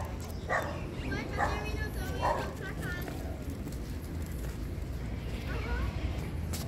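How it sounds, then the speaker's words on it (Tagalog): Dogs bark outdoors during a seaside walk: three quick barks in a row, then a pause, then one more bark later, at moderate distance over a low ambient background. "Ito tahol yung mga aso."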